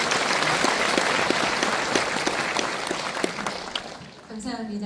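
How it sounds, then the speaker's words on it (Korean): Applause from the audience at a Korean education superintendent candidate's book launch event, a dense steady clatter of many hands that fades near the end as a voice begins speaking. "박수 한번 부탁드립니다"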